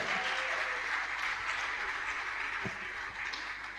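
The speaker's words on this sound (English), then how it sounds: "A rounding sound of applause for all of them." Graduation ceremony audience applauding for the Rome Business School Nigeria class of 2023, a sustained dense clapping across the hall that stays steady for several seconds, with no talk over it.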